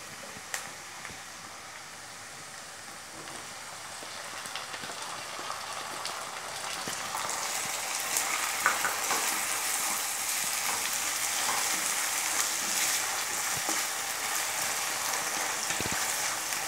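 Lightly browned onions and finely chopped tomatoes fry in a pan for sarson ka saag, giving a steady, hissing sizzle that grows a little louder and fuller over time, close by with occasional faint clicks and no voices.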